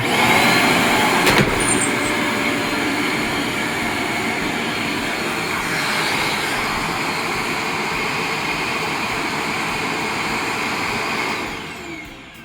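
A Riccar R25S upright vacuum cleaner runs loud and close with a steady motor roar, its pitch shifting slightly as the brush roll jams, then the motor winds down at the end.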